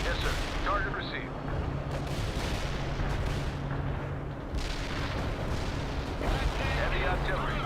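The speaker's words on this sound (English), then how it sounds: "Heavy artillery." Heavy artillery barrages in the real-time strategy game World in Conflict, a steady rumble of booming impacts and blasts rolling on continuously, with radio-style unit voices speaking over the bombardment.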